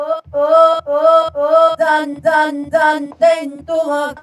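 Layered choral vocal tones sustained in repeating chopped phrases, bright and processed, loud and upfront with no talking.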